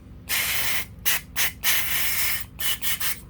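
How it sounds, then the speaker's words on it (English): Solvent cleaner is sprayed onto a removed EGR valve from a Corsa 1.0 or 1.2 engine, in a series of close, loud hissing aerosol bursts of varying length separated by short gaps, with no talk. "give it a good spray."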